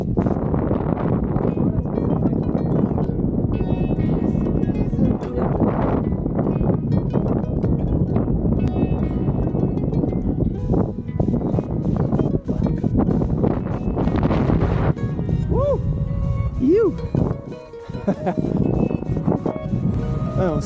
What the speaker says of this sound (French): Et le vent arrive dans tous les sens, ça change tout le temps